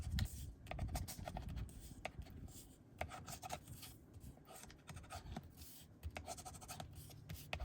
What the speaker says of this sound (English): Or burnish it, not score it.